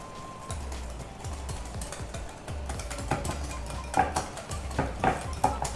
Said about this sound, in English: Blend this up.